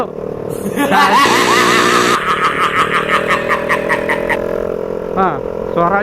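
A motorcycle with its exhaust pipe knocked loose runs loud and close. The engine drones steadily, then rises and falls in revs, and a person talks over it briefly.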